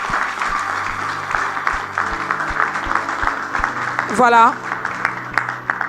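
A church congregation applauds in a steady wash of clapping, with a voice speaking over it and a brief rising vocal sweep near the end.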